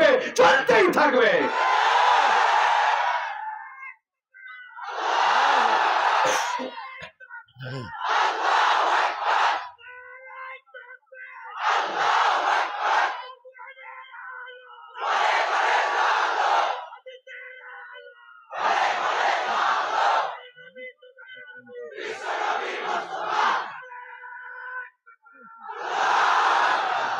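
A crowd at a Bengali religious sermon gathering chants the Allahu Akbar slogan in roughly eight loud, massed shouts, each separated by a short pause, with a rhythmic call-and-response feel.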